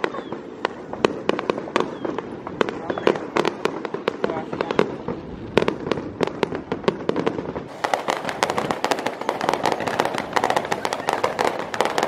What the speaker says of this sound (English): I'm going to go watch some fireworks for Ramadan Day.